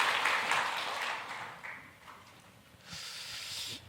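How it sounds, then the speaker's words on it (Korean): A church congregation applauds the choir during a Sunday service, a soft, distant patter of many hands that swells, fades, then rises again briefly. "우리 박수 한번 합시다"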